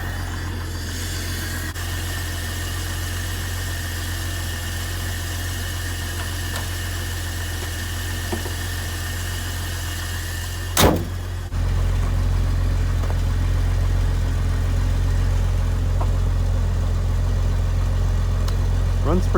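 Engine of a 1990 Jeep Cherokee XJ idling steadily nearby, a low constant hum that grows slightly louder after a brief clunk midway, with no talking.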